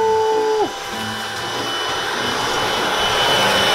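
An indoor vacuum cleaner runs during cleanup of a newly moved-into studio, a loud continuous roaring whine with a brief pitch drop early on before it settles into a steady drone.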